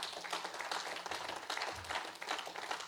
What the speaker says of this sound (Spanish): Vamos a darle un aplauso fuerte para...